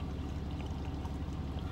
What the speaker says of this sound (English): Pour us a cup of coffee.